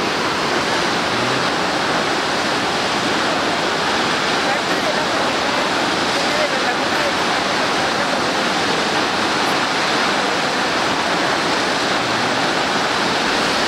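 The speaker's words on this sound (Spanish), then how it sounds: "Es una belleza esta cascada." Steady roaring rush of the Quetzalapan waterfall in the Necaxa area, Mexico, dense and broadband, continuous and close without a break.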